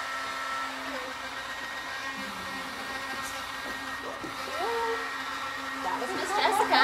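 A hair dryer blows steadily up close on chalk paint coating a vintage suitcase, a continuous whooshing hum that swells slightly near the end, with faint background noises.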